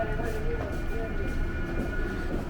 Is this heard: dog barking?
no